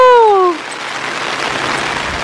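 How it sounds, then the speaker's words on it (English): Rain begins falling at a blueberry farm, a steady broadband patter lasting throughout, following a brief high-pitched voice or squeal at the start. "all of a sudden it started raining"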